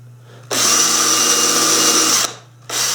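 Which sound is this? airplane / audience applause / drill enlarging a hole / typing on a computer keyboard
drill enlarging a hole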